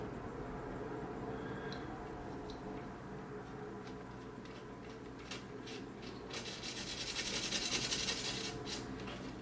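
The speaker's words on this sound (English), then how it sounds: "I've got my little pin vise here, and we're going to just drill where we marked." Pin vise hand drill twisting into a marked spot at a workbench, a soft steady rubbing and scraping close by with faint ticks, growing a little louder and grittier toward the end, no talking.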